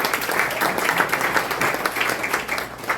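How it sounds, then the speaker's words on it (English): Audience applause at a community talk in Wasaga Beach, dense steady clapping lasting the whole moment with a faint voice beneath. "you should applaud that"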